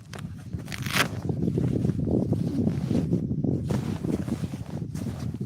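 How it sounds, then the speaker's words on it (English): Wind buffets the microphone outdoors during a paddling trip on the water, a steady low rumbling gust that carries on throughout with a brief higher rustle early on. "Like that wind's wanting to kick up this morning a little."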